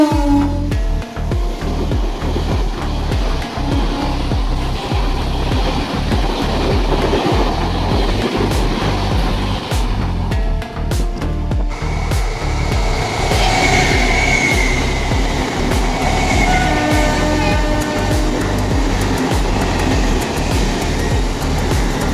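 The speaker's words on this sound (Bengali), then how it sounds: "সাথে তোমাদের একটা লোকাল ট্রেনের স্কিপিংও দেখিয়ে দিই।" A local train rolls past at the Sealdah railway workshop: a loud, steady rumble with rhythmic wheel clatter over the rails that continues throughout, with no voices.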